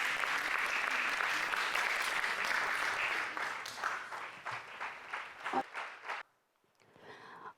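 An audience at a Carnatic music concert applauds to welcome a musician on stage, loud steady clapping that thins into scattered claps and then stops, a brief faint burst following.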